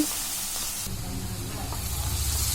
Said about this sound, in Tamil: இப்போ இந்த ஆனியன் கொஞ்சம் வதங்கட்டும்